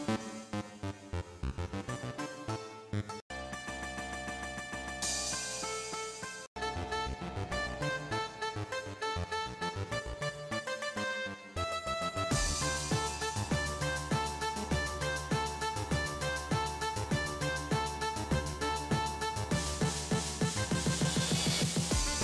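A song built on a mobile phone, a dense electronic arrangement with steady beats and layered synth melody running throughout, briefly cutting out twice before picking up fuller and busier toward the end.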